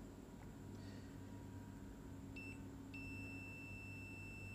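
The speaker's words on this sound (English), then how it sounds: "and a beep. It means that this is short circuited." A multimeter in continuity mode beeps while testing a shorted diode removed from a switching power supply board, two short, faint electronic tones with a steady hum and hiss underneath.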